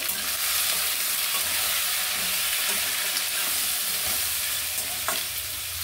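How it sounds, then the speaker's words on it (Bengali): A pan of mixed fresh vegetables, red amaranth stalks and a hilsa fish head sautés for a curry, giving a steady close sizzle with occasional stirring scrapes and no talking. "এবার ভালো করে একটু কষিয়ে নেব"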